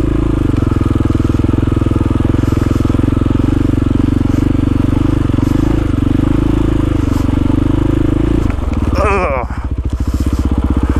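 A KTM motorcycle engine drones steadily and loudly while riding on snow and ice, with a brief clattering scrape and a change in engine note near the end.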